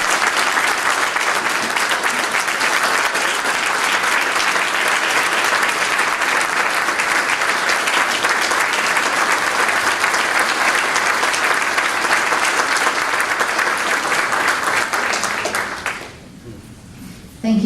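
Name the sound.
audience applause for a speaker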